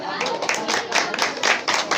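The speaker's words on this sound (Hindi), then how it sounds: "चलिए इसके लिए ताली हो जाए" Students in a Bihar coaching-centre classroom clap together, a steady run of sharp, close hand claps with voices mixed in.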